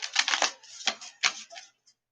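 A deck of cards is shuffled up close in several quick riffling bursts, each a crisp flutter, with the last one trailing off into quiet.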